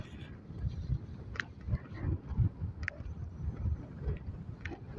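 Strong gusting wind buffets a vehicle on a southern West Java coastal road between Pameungpeuk and Sindangbarang, a dense low rumble surging and easing steadily throughout, with no voices.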